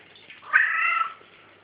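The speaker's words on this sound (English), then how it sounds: "There's the new kitty." A single clear cat meow from a new kitty, drawn out for about half a second, close and fairly soft, with no talk around it.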